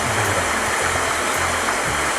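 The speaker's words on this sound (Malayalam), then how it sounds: "ഈ ഞണ്ടിരക്ക് വെള്ളച്ചാട്ടം വെള്ളിയാമറ്റം വാട്ടർഫോൾസ് അല്ലെങ്കിൽ വെള്ളിയാമറ്റം വെള്ളച്ചാട്ടം എന്ന പേരിൽ അറിയപ്പെടുന്നുണ്ട്" Njandirukki waterfall in Kerala, a steady dense rush of falling water heard close and loud, unbroken across the short span with no voices.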